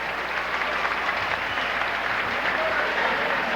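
A gym crowd at a 1979 high school basketball game between Morton and Rockford East gives cheerleaders a sustained, dense round of applause that holds evenly throughout.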